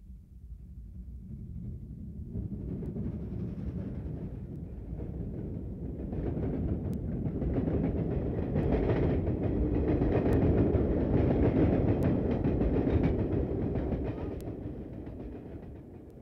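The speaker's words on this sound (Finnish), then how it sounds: "Tästä menee nimittäin Kouvolan juna." A train bound for Kouvola rolls past on the tracks with a rumbling build that swells to a steady rattling clatter and then eases off slightly, heard alone without talk.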